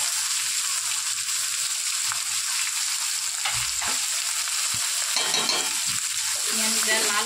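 Onions frying in a pan, a steady bright sizzle with occasional stirring scrapes throughout, close and continuous with no talk.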